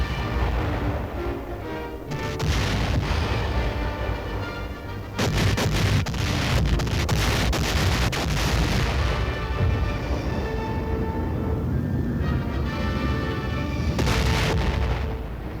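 Heavy bombardment of Okinawa in 1945, naval and air pounding with artillery fire: dense continuous rumbling booms and blasts, loud and sustained throughout with surges of concussive impacts and no voices.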